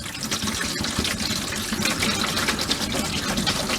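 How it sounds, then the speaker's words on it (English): A bucket of water pours steadily down the drain of a newly replaced RV bathtub, a continuous rushing, gurgling wash that stays fairly loud and even throughout with no talking. "I'm going to pour a bucket of water down the drain here"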